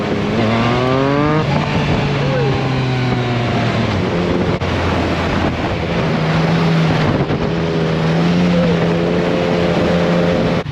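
A loud Yamaha Niken three-wheeled motorcycle close by revs and climbs through its gears in short straight runs, pitch rising then dropping between shifts, with a steady roar underneath.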